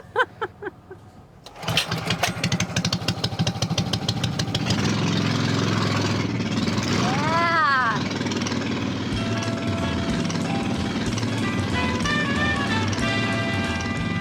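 After a few starter cranks, the engine of a 1967 Disneyland Autopia car designed by Bob Gurr and Walt Disney catches and settles into a loud, steady idle. A voice can be heard talking briefly over it.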